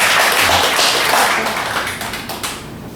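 A church congregation at a Wednesday service claps together to welcome back a pastor, producing a steady, dense wash of clapping that slowly tapers off.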